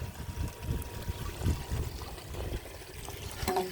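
Water trickles and gurgles through a koi pond pipe feeding a UV unit, a close, continuous uneven dribbling flow with low bubbling pulses.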